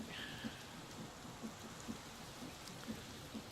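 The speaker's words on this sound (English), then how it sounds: "Why is it always raining?" Soft, steady rain hiss in the Minecraft video game, faint and continuous, with small regular ticks on top and no voices.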